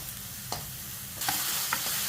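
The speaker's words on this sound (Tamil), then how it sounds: "இப்போ தக்காளி வதங்கிட்டு இருக்கு. இன்னும் கொஞ்சம் வதங்கணும்." Chopped tomato sautéing in a pan for ridge gourd kadayal, a low steady sizzle broken by a few spoon scrapes and stirs, quiet and close with no talking.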